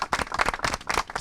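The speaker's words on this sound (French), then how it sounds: "maintenant vous allez applaudir pour Eden TV également" Students clap outdoors in a short burst of close, uneven applause, dense overlapping claps lasting about a second.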